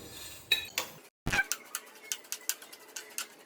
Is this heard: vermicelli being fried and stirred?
yes